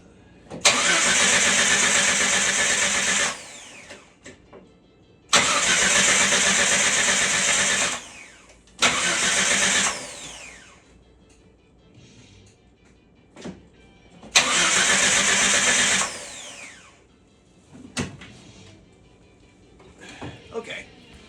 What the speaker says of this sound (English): I tested the neutral safety switch out by cranking it over and moving the stick around